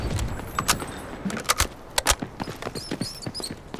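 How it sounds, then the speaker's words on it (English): Rats squeak near a hidden loot stash in the Delta Force video game, with short high chirps rising over a busy clatter of footsteps and rattling game sounds. "You can hear rats right now."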